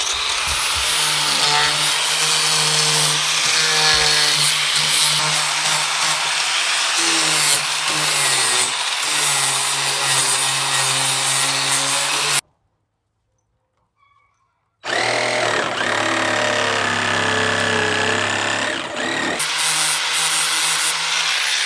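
A power tool runs steadily on reclaimed wood, smoothing nicks on a wooden perch for a mobile chicken tractor build, loud and continuous with a brief pause of silence midway before it resumes.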